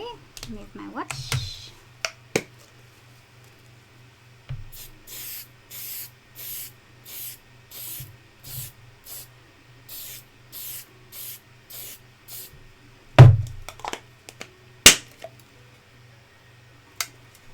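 A spray can fires a rapid series of short, even bursts, about a dozen hisses in a row, with a few clicks and knocks around them.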